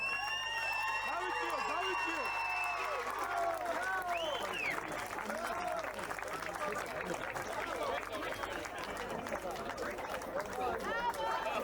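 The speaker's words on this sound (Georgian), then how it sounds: "კიდევ ერთხელ მხურვალი აპლოდისმენტები მას" Audience applauding at a Georgian featherweight boxing title fight, sustained clapping and crowd noise filling the hall, with an announcer's voice over it.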